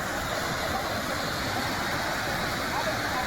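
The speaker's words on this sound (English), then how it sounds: "So down there is the waterfall" A waterfall in Thailand produces a dense, steady roar of rushing water. The sound is loud and continuous, without any break.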